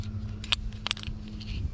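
A set of hex keys jangles briefly up close, a few light metallic clinks and rattles against a low steady hum, with no talking.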